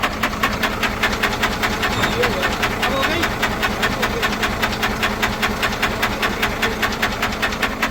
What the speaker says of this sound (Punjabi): ਮਿਸਤਰੀ ਨੇ ਇੰਜਨ ਦਾ ਕੰਮ ਕੀਤਾ ਜੀ ਤੇ ਉਹ ਹਾਲ ਦੇਖ ਲਓ